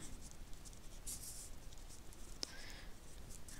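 A pen writes on a folded paper flap in a math lesson, producing a soft, steady scratching close up against a faint background hiss, with one sharp tap midway.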